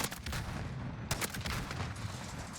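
Explosive rounds from a RYTEC AMR anti-materiel rifle in Call of Duty: Modern Warfare go off in a few sharp, fairly quiet cracks and bursts over a steady background roar, with a distinct blast about midway and no voices.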